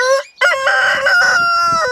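A rooster crows loudly and close by, one full cock-a-doodle-doo with a short break near the start, heard alone.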